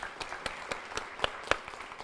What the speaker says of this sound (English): So let's give a round of applause for her.